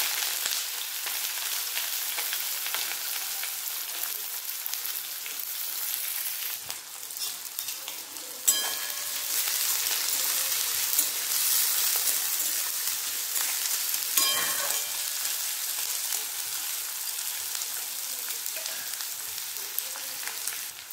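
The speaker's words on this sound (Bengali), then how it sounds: "তেল গরম হয়ে গেছে, এতে দিয়ে দিলাম শুকনো লঙ্কা আর দিলাম পাঁচ ফোড়ন।" Dry red chillies and panch phoron fry in hot oil with a steady, loud, close sizzle and fine crackling that never lets up. A couple of brief knocks and stirs break through along the way, and no talking is heard.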